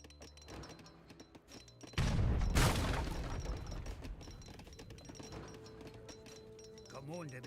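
Rockets fire in a battle in the strategy game Age of Empires 3, a sudden loud burst of booming blasts and crackling fusillade that decays over several seconds, with lighter game sounds and effects continuing around it.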